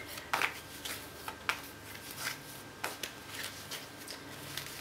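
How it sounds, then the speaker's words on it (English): A tarot deck being shuffled by hand, with quick papery riffles and slaps arriving in short, uneven bursts, close and fairly quiet with no talk. "Just shuffling to get your intent into the deck."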